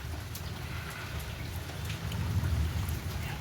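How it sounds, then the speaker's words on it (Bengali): Low, continuous thunder rumbles in the distance beneath steady rain as a storm clears, swelling slightly louder midway, with no voices. "এখনও আকা মানে মেঘ গুড়গুড় করে যাচ্ছে ওর গুড়গুড়ানি কমছে না"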